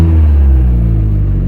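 A car's Z20LET engine runs loud and close just after a cold start, a deep steady rumble with a slight rise as it revs.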